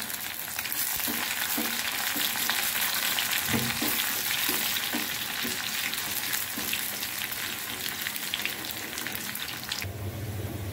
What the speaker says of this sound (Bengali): তা আমি এখন এখানে বাগার দিই।